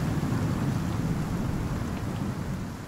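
A thunderstorm in the game Icarus: steady heavy rain pours with a low rolling thunder rumble underneath, loud and continuous throughout.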